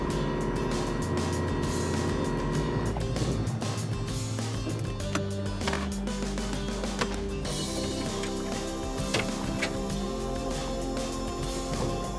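A small fishing boat's outboard motor putts steadily on windy open water, a continuous loud droning hum with some wind rumble and no talking.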